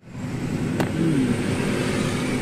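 A car engine hums steadily while cruising along the Bangalore highway, with a constant broad road and motor rumble and no talking.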